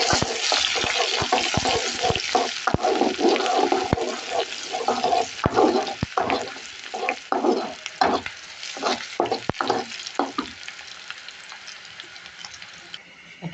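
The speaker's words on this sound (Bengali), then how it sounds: "ফোড়নের জন্য পেঁয়াজ রসুন আর শুকনা মরিচ দিয়ে দিলাম" Onion, garlic and dried red chilies fry in hot oil for a tempering. A loud, dense sizzle runs throughout, broken by frequent stirring clicks and scrapes close by, easing slightly toward the end.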